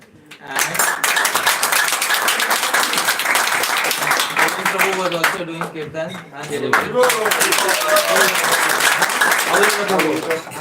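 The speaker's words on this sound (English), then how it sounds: "let's also have a round of applause for the devotees who are doing kirtan" Applause from a devotional gathering honouring kirtan singers, a dense run of hand claps lasting most of the clip, with someone speaking over it near the start and again toward the end.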